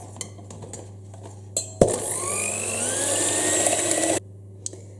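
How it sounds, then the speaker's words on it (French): An electric mixer whirs close by for about two and a half seconds, blending ingredients with sugar for a semolina and apple cake, with light clinks of the bowl before and after. "je vais les mélanger avec le sucre"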